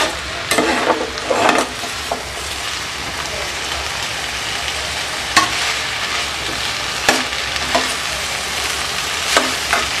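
Rice stirred and sautéed in a pan for coconut milk biryani, a steady close sizzle with scraping stir strokes every few seconds, no talk.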